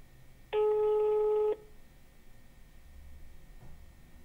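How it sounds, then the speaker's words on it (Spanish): A telephone ringback or dial tone sounds as one steady, loud electronic tone of about a second, placed during a call to a scammer, then fading into quiet line hiss with no talk. "Le vamos a marcar a ver qué es lo que nos dice."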